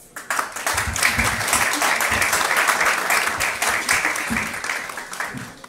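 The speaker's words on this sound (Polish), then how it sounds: "Proszę gości, żebyśmy oklaskami podziękowali za honorowy patronat kolejny naszego balu." Warm, sustained applause from an audience at a charity ball, many hands clapping steadily for several seconds after a brief build, fairly close and filling the room.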